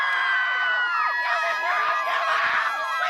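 Children and a school band crowd cheering, whooping and screaming for a history teacher riding a bike for 24 hours, a loud, continuous burst of excited high voices close by.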